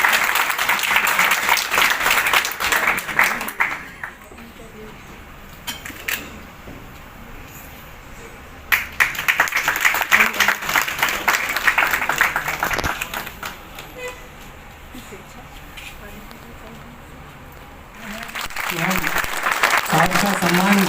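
Loud applause from an audience honouring Dr. Bhavani Singh, director of Rajasthan's animal husbandry department, at a Kota felicitation event, swelling in several long waves with quieter stretches between.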